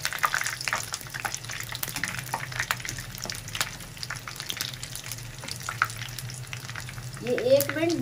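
Onion pakoras fry in hot oil, giving a continuous crackling sizzle up close with small bursts and splutters, and a brief stir or scrape toward the end.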